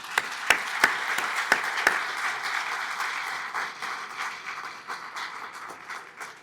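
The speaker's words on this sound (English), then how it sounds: "One more applause for that work." Audience applause fills a gala hall, opening with a few loud, distinct claps before swelling into steady, dense clapping from many people at moderate distance, then gradually thinning out.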